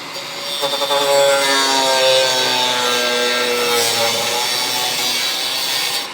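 A tool cuts along the pinch weld of a Charger crew cab car body under restoration, giving a loud, close, steady grinding whine with rising tonal harmonics that lasts for about six seconds, with no voices.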